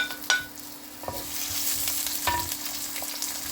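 Onion, green chilli, ginger, garlic and curry leaves sauté in a hot pan with a steady close sizzle, broken by a few sharp scrapes and knocks of a stirring utensil.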